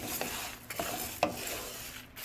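Cumin seeds and black pepper dry roasting in a pan over low heat: quiet, intermittent scraping and stirring strokes, with a few brief rasps against a faint background.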